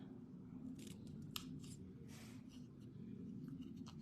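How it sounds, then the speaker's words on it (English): Scissors snip a dovetail into card stock in a few short, close, crisp cuts over a low steady background hum. "you're going to cut just a little cut right down the middle, then go from corner to the top of the cut you made"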